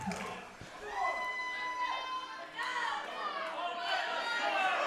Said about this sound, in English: I can barely hear you, Leo, over the crowd right now.